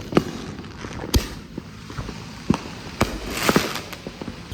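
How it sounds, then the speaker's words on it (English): Fireworks and firecrackers go off at a Fourth of July backyard gathering, a string of sharp pops and bangs at irregular intervals, some close and crackling, others more distant, with little talk. "Firework"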